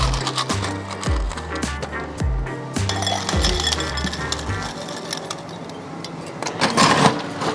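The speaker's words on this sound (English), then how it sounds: "Next we're gonna ice that up all the way to the top." Ice cubes are dropped into a glass holding grapefruit gin for a gin and tonic, making a run of bright, rhythmic clinks and knocks for several seconds before fainter rattling and settling sounds.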